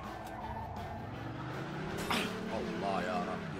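In the video game Mafia 2 a car's tires squeal and skid through a handbrake turn over a steady engine drone, the screech rising midway, while someone talks over the game audio.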